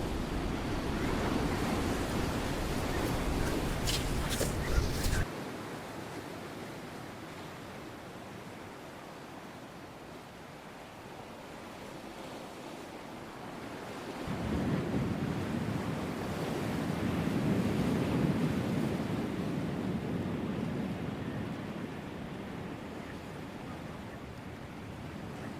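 Ocean surf on a beach, a broad rushing wash of waves that swells, drops back to a quieter hiss, then rises again, steady and moderately loud with wind buffeting the microphone.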